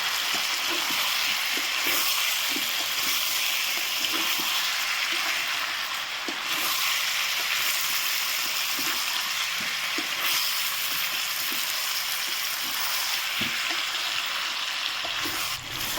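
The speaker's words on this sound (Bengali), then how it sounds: "এখন আমি আলু মাংস ভাজে নেব।" Potatoes and meat sizzle in an electric wok while a wooden spatula scrapes and clacks against the pan in irregular strokes, a constant close frying hiss underneath, no talking.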